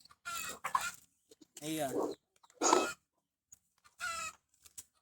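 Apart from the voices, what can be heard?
chickens clucking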